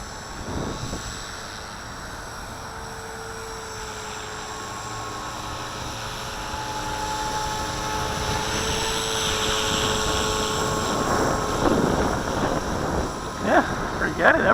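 A V450D01 RC helicopter hovers in high wind, its rotor and motor giving a steady, whining buzz that swells over time, with wind rumble and a person speaking over it.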